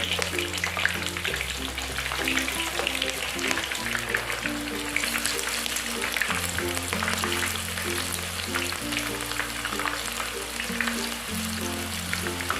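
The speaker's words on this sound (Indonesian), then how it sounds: "Pertama sekali kita goreng dulu bawang merah." Steady, loud sizzling of shallots frying in hot oil, continuous crackle throughout, with soft music playing underneath.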